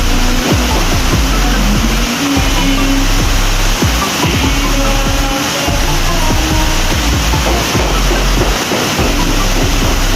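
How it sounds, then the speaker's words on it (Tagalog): Heavy, wind-driven rain pours down and water streams into a muddy shelter, a loud, constant rushing wash with low rumbling underneath that never lets up. "Pag malakas yung ulan sa kahangin, yan, pumapasok dito."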